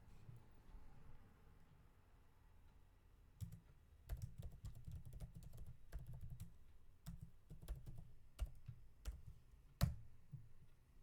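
Keys tapped on a computer keyboard while a username and password are entered to log into a Proton VPN account, a quiet, irregular run of clicks and taps that picks up after a slow start, with no voice.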